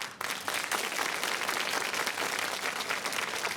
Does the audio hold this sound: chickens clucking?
no